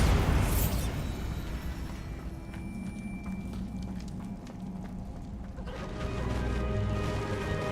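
A Bombarda blasting spell in Hogwarts Legacy bursts loudly at the start, followed by a rumbling, crackling aftermath of debris and mechanical clatter that swells again near the end.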